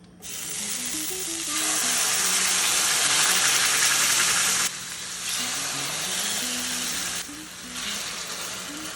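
Beef short ribs frying in hot oil, a loud, dense close-up sizzle that swells when the meat goes in and surges in waves, with a faint low hum beneath and no talk.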